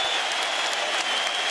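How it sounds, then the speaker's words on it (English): An arena crowd at a 2008 NBA Finals basketball game between the Lakers and Celtics gives a departing player a sustained, dense ovation of applause that holds steady throughout. "the crowd gives him a well-deserved ovation"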